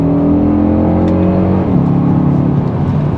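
A loud, close Audi RS Q3 Sportback engine revs, holding a rich throbbing tone before the pitch shifts midway, sustained throughout.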